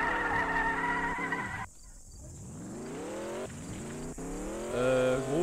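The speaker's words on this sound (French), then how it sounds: "je crois que j'ai entendu une voiture" A car driving in the Roblox game Mad City, its engine tone rising and falling as it speeds up and shifts, loud and close, with a brief dip in the middle and no speech.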